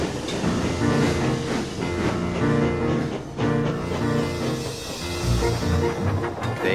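An animated steam train pulling out, a loud continuous rolling rumble with rhythmic clickety-clack of wheels on rails and some hiss, close and steady throughout, no talking.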